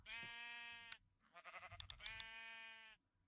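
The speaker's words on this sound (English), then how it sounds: "I need these sheep to shut up, dude." Sheep in a Minecraft modpack bleat in long, wavering cries, one after another with a short break between them, faint and alone.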